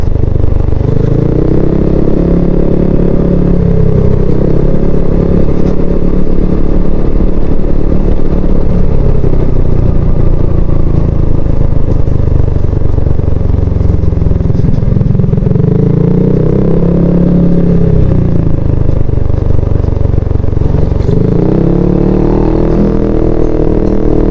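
A motorcycle riding along a road toward a waterfall, its engine droning loudly and continuously up close, with recurring rises and falls in revs and rattling clatter over rough ground, and no talk.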